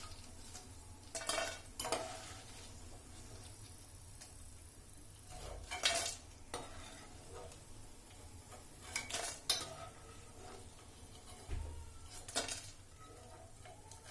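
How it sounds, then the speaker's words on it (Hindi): Leftover roti pieces are deep fried in oil to make chips, with a low bubbling sizzle under repeated metal clinks and scrapes of a spoon against the pan, arriving in separate bursts. "ऐसे ही और बची हुई रोटियों को तल लेंगे।"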